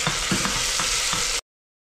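Garlic and ginger paste fries with onions in a pan, giving a brief, close sizzle with a few stirring scrapes before it cuts off abruptly.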